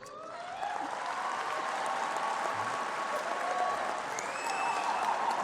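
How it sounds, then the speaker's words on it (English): An audience at a Faculty of Education graduation ceremony breaks into sustained applause and cheering for the graduates, a dense wash of clapping filling the hall, with a few high whistles and shouts rising through it. "Ladies and gentlemen, let us cheer our graduates."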